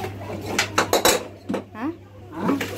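Several sharp metallic clatters of pots being knocked together, close and loud, with a voice speaking briefly amid the banging.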